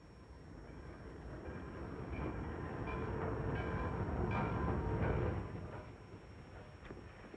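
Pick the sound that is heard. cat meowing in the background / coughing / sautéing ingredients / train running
train running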